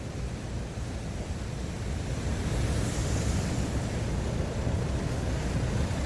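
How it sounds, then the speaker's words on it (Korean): Waves crash steadily on a shore at a free car-camping spot, making a continuous broad rushing wash with some wind noise and no voices. "파도가 지금 굉장히 칩니다"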